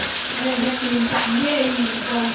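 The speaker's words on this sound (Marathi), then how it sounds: "कांदा टोमॅटो मस्त भाजून घेऊ" Onion and tomato frying in a pan while a crab curry is cooked, giving a steady close sizzle with a faint tonal hum and a voice speaking over it.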